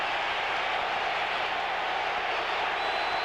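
Dense, steady roar of a stadium crowd at Candlestick Park during a 1985 Monday night NFL game between the Seahawks and 49ers, a constant wash of cheering voices with no breaks.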